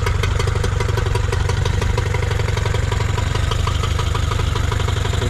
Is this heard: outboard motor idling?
yes